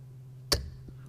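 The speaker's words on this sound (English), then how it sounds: "Furious darts from Callan Rids." A single dart thuds into a dartboard during a professional darts match, one crisp close impact followed by faint arena room tone.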